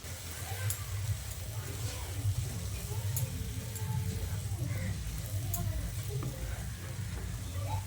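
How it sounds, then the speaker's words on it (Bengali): Sago pearls fry in ghee over low to medium flame, a soft steady sizzle with light stirring and faint ticks, while a voice talks over the cooking. "ঘিয়ের সঙ্গে সাবুটাকে বেশ ভালো করে ভেজে নিয়েছি"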